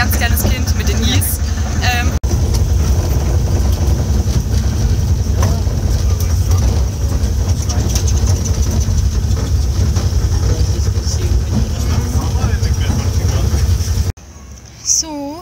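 Steady low rumble and rattle of a small train carrying passengers, loud and continuous throughout, with a brief cut near the end where the rumble drops away.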